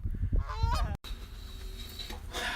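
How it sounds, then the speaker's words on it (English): Loud goose honks, a burst of nasal calls at the start followed by more honking from a flock amid outdoor noise. "Geese. Honk!"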